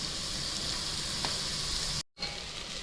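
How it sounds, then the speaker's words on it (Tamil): Ginger and garlic sauté in a pan over a low flame for ghee rice, a steady close hiss of frying broken by a brief dropout near the end before the sizzle resumes. "இஞ்சி பூண்டு நல்லா வதங்கிடுச்சு."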